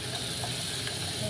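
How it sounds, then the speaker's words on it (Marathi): Food fries in a pan over a high gas flame, a steady loud broadband sizzle and hiss that holds even throughout with no pauses. "ते थोड्या वेळ आपण फ्राय करून घेऊया"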